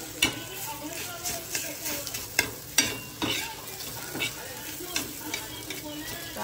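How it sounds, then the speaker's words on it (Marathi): Fish frying in a pan, giving a continuous close sizzle with irregular scraping and clinking bursts, with no speech. "ही मच्छी तर फ्राय करायला घेतली"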